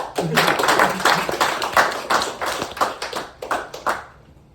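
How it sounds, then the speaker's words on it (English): Scattered clapping from an audience at a wiffleball league honors event, a loose burst of hands that thins out and fades toward the end, with some background voices. "Now you can applaud."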